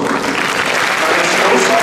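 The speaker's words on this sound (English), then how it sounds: "So this is Solange, give this young lady a round of applause" A room full of people clapping steadily, dense and loud, sustained from start to finish.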